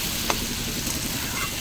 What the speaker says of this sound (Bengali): দিয়ে ভালো করে আমি নাড়িয়ে নেব